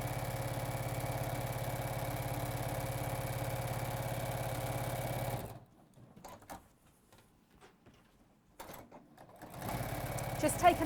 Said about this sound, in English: So I'm just sewing a 1/4 inch seam around the outside.